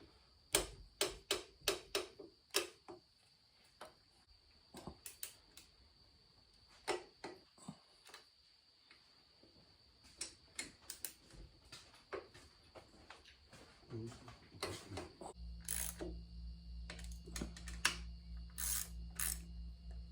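Torque wrench clicking on Harley-Davidson Sportster engine bolts, with a string of sharp metallic clicks and ticks, close and distinct, bunched in quick runs with brief pauses, over a faint steady hum that grows louder near the end.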